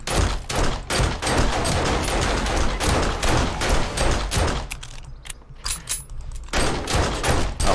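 Dense, rapid bursts of gunfire from the survival video game 7 Days to Die during a fight with a bear, sounding loud and continuous with mechanical clatter, then briefly thinning before the shooting resumes.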